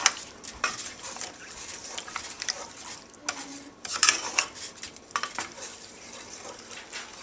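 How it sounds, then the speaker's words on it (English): Grapes being stirred in sauce in a pan, a steady wet scraping with repeated clinks of a utensil against the metal, fairly soft and close, with no talk. "just stir just for a few minutes so the grapes are completely coated"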